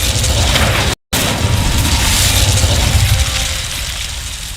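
An Incendio fire spell erupts in a video game as a loud, booming blast with a crackling, rushing tail that holds steady before slowly fading, broken by a brief dropout near the start.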